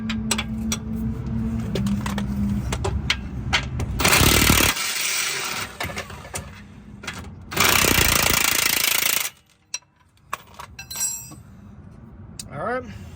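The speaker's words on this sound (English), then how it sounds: "now we're going to go ahead and tackle this 19" Work on a Toyota Camry lower control arm's 19 mm bolt, with a wrench and a loud power tool sounding in two harsh, sustained bursts amid metallic clinks and shop noise.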